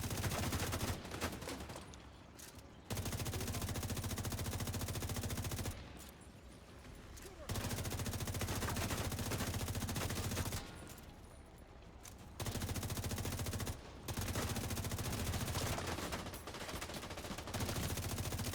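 Sustained automatic gunfire in The Division 2 during a manhunt at Camp White Oak, long loud bursts of rapid shots broken by short pauses, close and dense throughout.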